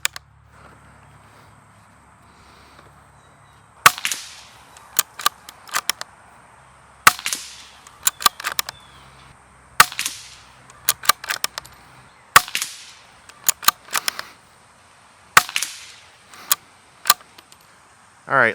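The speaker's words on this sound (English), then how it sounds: "I'm going to shoot two 10-shot groups and one 5-shot group." Rifle shots from a Bergara BMR .22 rimfire bolt-action rifle fired outdoors at a 100-yard range: sharp individual cracks spaced several seconds apart, each trailed by quieter bolt-working clicks and clatter.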